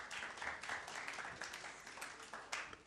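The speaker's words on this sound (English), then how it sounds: "Applause, please." Faint, steady applause from the audience at a young entrepreneurs' startup pitching session during the Kazan Summit 2017 forum, continuous and distant with no one talking.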